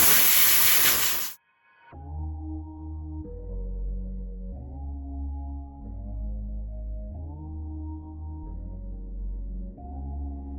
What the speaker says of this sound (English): I don't always use the steamer on every vehicle